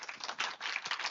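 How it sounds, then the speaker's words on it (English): A brief, steady burst of audience clapping thanks a panel at a talk session. The applause is dense and moderately loud, with no speech over it. "just ask everyone to give a short round of applause for all of our panelists earlier"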